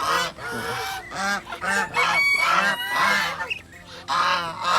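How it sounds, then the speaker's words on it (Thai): Farm geese honk loudly and repeatedly, several birds calling over one another in a busy, continuous chorus close by. "เสียงดังมากนะครับเรา ค่อนข้างจะร้องดังนะครับห่านนะครับ"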